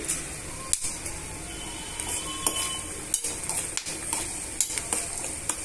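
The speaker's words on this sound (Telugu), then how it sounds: "1 టేబుల్ స్పూన్ పచ్చిశనగపప్పుని యాడ్ చేసుకొని వేయించుకోవాలి।" Cumin seeds, urad dal and chana dal fry in a pan for a tasty chutney base, giving a steady crackling sizzle broken by scattered sharp clicks and taps of a spoon against the pan.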